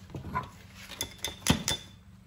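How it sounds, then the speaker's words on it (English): Several light metallic clinks and jingles of bungee strap buckles on a packed tree stand, in quick irregular succession, close by, with some soft rustling between them. "What you're hearing, that's just the buckles."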